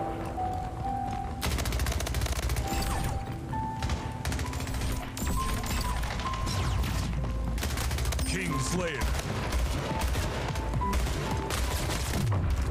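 Pulse rifle gunfire in Splitgate, dense bursts of rapid shots and impacts that rattle almost nonstop for over ten seconds, loud and close, mixed with game effects.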